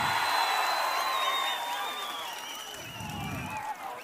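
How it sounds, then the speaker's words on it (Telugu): Crowd applauding and cheering at an outdoor political rally meeting in Gooty, a steady wash of clapping with whoops mixed in, heard at moderate distance beneath lingering voices. "మీరు అవుననిపిస్తే అవునంటే గట్టిగా చప్పట్లు కొట్టి చెప్పండి అవును అని."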